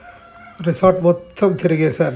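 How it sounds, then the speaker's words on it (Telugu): Rooster crowing early in the morning at a jungle resort near Dandeli, its drawn-out calls rising twice over a person speaking close by. "కోడి కూత, ఆహా సూపర్ ఉంది."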